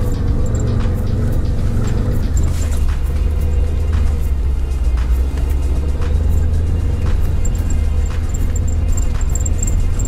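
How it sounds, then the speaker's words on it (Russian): A 4x4 off-road vehicle pushes through deep snow, its engine held at raised revs in a steady, loud, close rumble that continues without a break. "обороты подняли"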